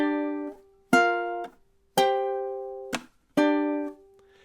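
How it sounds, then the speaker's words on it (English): Strummed ukulele chords play a riff in measure 9, four bright struck chords with short muted gaps between them, close and clear with no talking. "But measure 9 in time should sound something like this."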